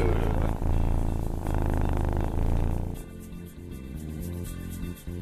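A person imitates a cat's purr with the voice, making a steady, rumbling, buzzing drone that runs for about three seconds and then turns into a softer, broken rattle.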